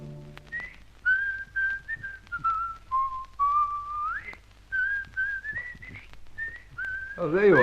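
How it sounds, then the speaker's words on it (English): A person whistles a melodic tune alone, a clear string of sustained and sliding notes with short pauses, close and fairly loud, ending in a brief burst of other sound. "I was whistling your theme song"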